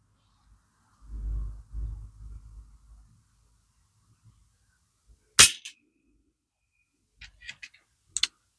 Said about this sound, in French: on tire du 40 grains avec un calibre 22